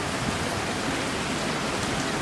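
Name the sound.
rain falling outside on a resort balcony in Florida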